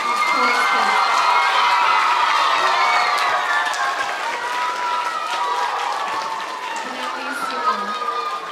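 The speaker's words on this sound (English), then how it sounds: "give one more big round of applause to this." Audience applause and cheering at a children's spring chorus and Orff concert, where clapping mixes with loud, high-pitched shouts and whoops from kids in a lively crowd, sustained throughout.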